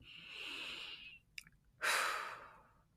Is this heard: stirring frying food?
no